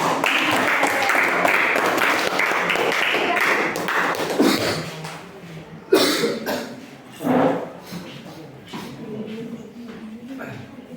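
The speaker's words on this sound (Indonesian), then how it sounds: "Tepuk tangan dulu untuk kelompok 3." A class group applauding for group 3 before their presentation, moderate clapping at first that fades into coughs, shuffling and nearby voices.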